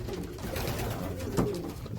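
A pigeon coos softly inside a pigeon loft, a low, muffled murmur running steadily under faint background rustle, with no voices.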